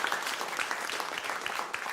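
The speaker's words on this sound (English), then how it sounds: "Have applause for our winner right there" A studio audience applauds the winner of a pet caption contest, a brief burst of quiet, even clapping with no voices over it.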